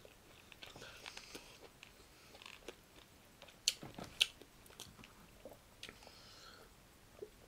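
Someone chewing bacon close to the mic, with faint soft crunches and wet chewing and a couple of sharper bites near the middle, quiet and intermittent, with no talk.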